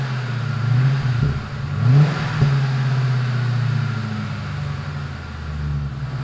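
A Mercury Panther-platform car with new AP Xlerator mufflers and Walker dual exhaust rumbles at a close, steady idle, with a couple of quick revs early on and no talking.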